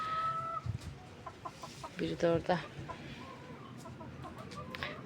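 Chickens cluck in a vegetable garden with short, uneven bursts of clucking close by, while a person talks over them.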